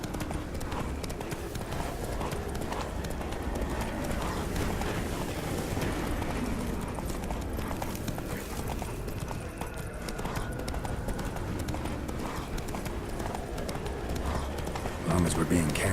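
Hooves of Roach, Geralt's horse in The Witcher 3, clip-clop at a steady gallop throughout, with a man and a horse voice talking over the rhythmic beat.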